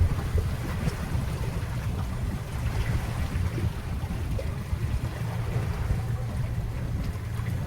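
A boat's motor drones steadily with wind and water noise as it travels along a river on a fishing trip near Penang, loud and continuous throughout, with no talking.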